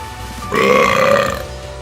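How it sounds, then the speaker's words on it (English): A single drawn-out, gurgling burp from a character in the video game Danganronpa: Trigger Happy Havoc, loud and close, rising abruptly and tapering off over about a second with no talk around it. "If I can stop burping, that'd be great."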